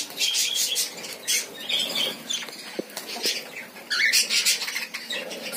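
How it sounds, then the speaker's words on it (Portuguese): A pair of cockatiels in an aviary squawk in repeated harsh, scratchy bursts, fairly close, with rustling and flapping between the calls. "Esse casal de calopsita também."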